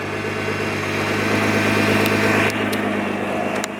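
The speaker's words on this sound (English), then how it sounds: "even when it's idling, sometimes you can hear it just kind of rotating in there" A steady, droning engine idle of a Nissan GT-R with a constant low hum and a faint whirring of the transmission rotating underneath, close by and unbroken.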